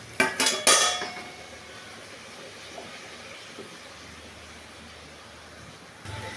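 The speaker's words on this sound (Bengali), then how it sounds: "একটু ঢেকে দেবো" A lid is set down on a cooking pot where potatoes are steaming for a duck egg dish: a few sharp metallic clatters close by in the first second, then a quiet kitchen hum.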